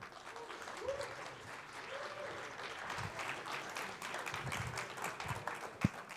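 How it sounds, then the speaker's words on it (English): An audience at a Devcon VI conference stage in Bogotá claps steadily to welcome a speaker, a moderately distant, sustained round of applause with a few louder claps and murmurs near the end. "Big round of applause for him."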